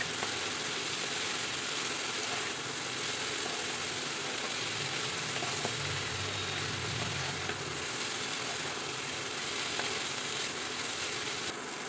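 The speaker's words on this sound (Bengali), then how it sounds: "এখন সব উপকরণগুলি একসাথে নাড়িয়ে নেব।" Fish curry base of pond fish with turmeric and salt sizzles steadily in a pan while being stirred, a continuous loud frying hiss with occasional scraping, no talk.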